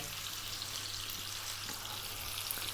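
Fish frying in olive oil over medium heat in a pan, a steady, even hiss of sizzling oil with a faint low hum behind it, continuous and close.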